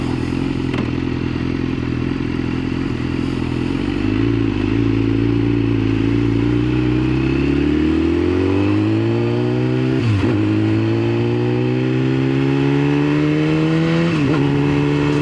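A BMW HP4 1000cc motorcycle accelerating on the road, its engine note climbing steadily through the gears in a loud, continuous, close drone with a rising pitch and brief dips at the shifts.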